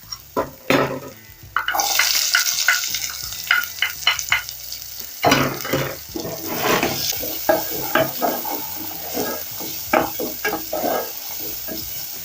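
Onions saute in a pot, with a loud sizzle as they hit the hot oil and repeated scraping and stirring knocks close by, and no one speaking.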